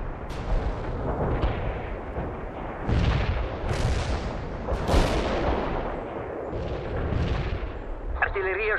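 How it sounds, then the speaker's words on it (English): Artillery strike in the war video game World in Conflict, a series of heavy booming impacts rolling in one after another amid steady battle noise, with radio-style voices talking partway through. "Artillery strike, commander. On the way."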